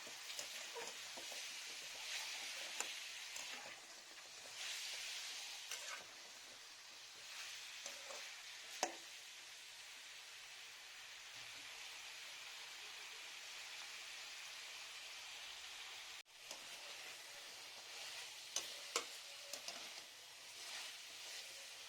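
Turmeric, green chilli and onion sautéing in a pan for Rayalaseema chicken pulao, making a soft, continuous close sizzle with occasional light clicks of stirring, fairly quiet overall.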